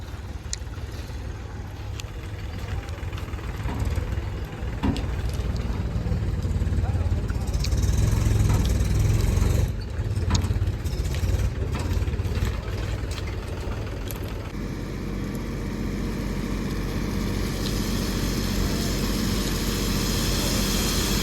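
A tractor engine idles and rumbles at a market yard while peanuts are unloaded, a steady low drone running throughout with background voices and yard noise.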